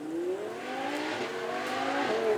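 An Audi R8 V10 at the Beaulieu Supercar Weekend revs up through rising gear sweeps, its engine wailing loud and close with tyre noise throughout the brief pass and no talk.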